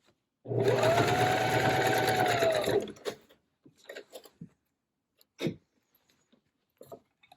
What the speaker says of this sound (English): And then we'll run it through the sewing machine again.